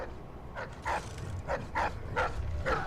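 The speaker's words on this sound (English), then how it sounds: "There are two dogs right there. What are they barking at?" Two dogs in the video game Dishonored 2 bark in a series of sharp, evenly spaced yips and barks, moderately close, over low ambient background.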